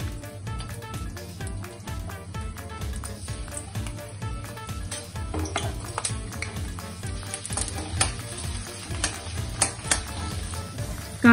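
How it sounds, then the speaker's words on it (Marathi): Sliced onion frying in hot oil in a wok, a steady sizzle running throughout with occasional stirring scrapes and utensil clinks against the pan, close and even. "तापलेल्या तेलामध्ये उभा चिरलेला कांदा घालायचा आहे।"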